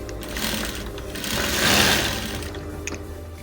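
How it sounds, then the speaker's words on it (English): Sewing machine stitching the sleeve hems of a dashiki, running continuously with a fast, even mechanical chatter that swells slightly in the middle, close up with no talk. "Hem the sleeves, then we will go ahead and join it, and we are done."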